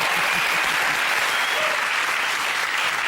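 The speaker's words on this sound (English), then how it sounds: "round of applause." A television studio audience bursts into sustained, dense applause with cheering at a comedy panel show, loud and continuous throughout.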